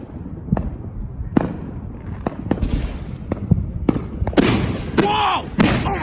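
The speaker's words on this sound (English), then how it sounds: "there was another firework I just saw out there" Fourth of July fireworks bursting outside a house, a string of sharp booms and cracks, some distant and some louder, ending in two big crackling blasts close together.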